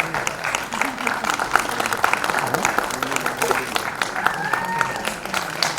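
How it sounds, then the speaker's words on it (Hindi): Loud audience applause at a singer's grand birthday celebration, a crowd clapping steadily while voices speak and call out over it. "जोरदार तालियां।"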